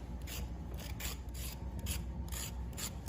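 A knife blade shaves the skin off a carrot in quick, rhythmic rasping strokes, close and soft, repeating about every half second over a quiet kitchen background.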